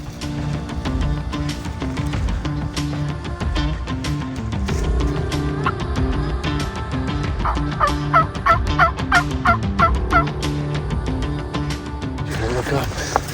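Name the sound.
wild turkeys gobbling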